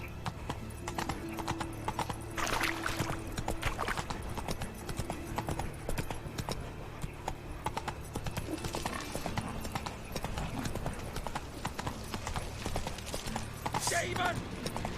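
Roach the horse in The Witcher 3 galloping, with steady rhythmic hoofbeats running continuously at a moderate level, a brief whinny, and occasional talking over the top.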